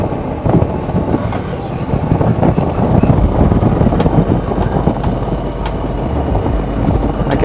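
A Harley motorcycle with a newly fitted quarter fairing and dark smoke windshield riding at around 30–35 mph, heard as a continuous loud low engine rumble mixed with buffeting wind noise, steady throughout with no talk.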